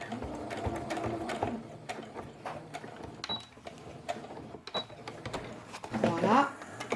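Sewing machine stitching felt pieces for a baby's quiet book, running forward and then in reverse in short bursts of rapid mechanical chatter, with someone speaking over it and a few small handling clicks.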